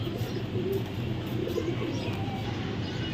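Nun pigeons, including yellow and Euro American nun breeds, coo softly and continuously, low burbling calls overlapping from several birds close by.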